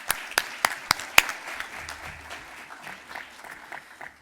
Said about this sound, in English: Let's give Salvatrice a big round of applause.